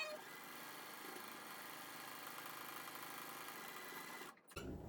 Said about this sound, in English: I am just going to sew it together with a 1/4 inch seam, back stitching at the top.